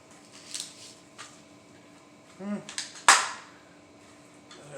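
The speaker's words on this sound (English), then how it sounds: "This is a Tapco mag. Let's put it in." Tapco magazine slides into an Arsenal SAM7K pistol: a few soft scrapes and clicks, then one sharp, close metallic snap as it locks, with light handling noise around it and no talk.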